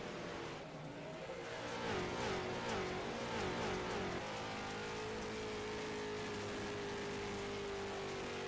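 Race car engines in the iRacing video game during a league race: a rising, stepping engine whine through several gear changes, then a long steady high-revving drone, loud and continuous with no voices.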